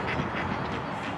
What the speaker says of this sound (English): What's up with all these ducks?